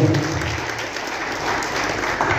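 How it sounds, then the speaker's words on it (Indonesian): Applause for a presenter, Ibu Ida from Kecamatan Logo, at an elementary teachers' training session: a short burst of steady clapping from a room of people, fairly close and alone without talk. "kita beri aplaus untuk Ibu Ida Kecamatan Logo"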